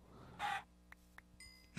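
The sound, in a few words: chickens clucking in a video game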